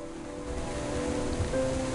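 Steady rain pours down in the video game King's Quest: The Silver Lining, a continuous, even hiss with faint low tones beneath, holding at the same level for the whole stretch without pauses.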